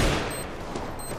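Gunfire in the video game Counter-Strike: Global Offensive, a burst of several sharp shots close together over a noisy game background.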